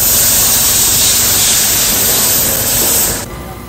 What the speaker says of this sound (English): blow them dry with compressed air